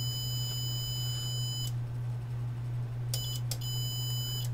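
Electronic beeps from a Siglent SDM3045X digital multimeter testing a diode: a steady high tone stops, then returns after two short chirps, over a constant low electrical hum.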